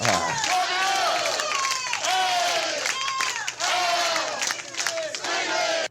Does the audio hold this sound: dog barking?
no